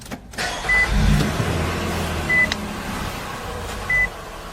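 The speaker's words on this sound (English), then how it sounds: "we'll start the car up" A car starting up: a brief cranking rumble gives way to a steady idling engine, with a few short electronic beeps repeating at intervals, close and without talk.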